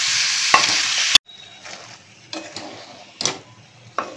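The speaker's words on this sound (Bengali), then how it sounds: "দেখো মাংসটা ভাজা হচ্ছে," Chicken pieces frying in a pan and being stirred, kept pale while their released water cooks off: a steady sizzle broken by a few sharp scraping stirs, then quieter clinks and stirring sounds.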